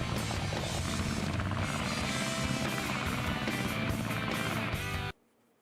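Sonic's plane from the Sonic Adventure video game drones with a steady, loud propeller-engine roar that holds for about five seconds, then cuts off abruptly into near silence.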